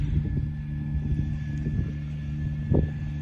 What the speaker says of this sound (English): right now he's using the tractor to keep leveling the land and get it ready for the vine planting next month